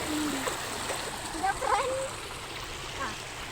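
A small stream swollen after rain rushes steadily over rocks near small waterfalls, a continuous close splashing and gurgling roar with faint voices underneath.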